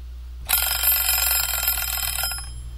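A ClassDojo countdown timer alarm goes off after a brief silence, a bright, rapid electronic ringing that holds at steady loudness for about two seconds before cutting off.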